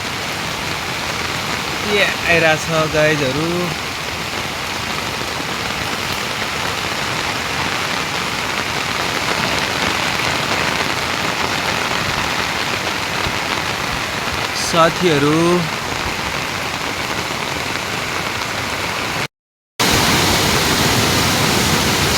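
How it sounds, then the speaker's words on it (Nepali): Heavy monsoon rain falls steadily in the Nepal Himalaya, a dense continuous hiss beside a swollen stream, while someone speaks briefly twice over the downpour. "पानी परेर बहुत हेभी रेनफल साथीहरू हेभी रेनफल"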